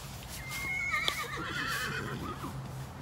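A horse at a barn gives a faint, distant whinny, a high wavering call lasting about a second and a half over a quiet steady background hum.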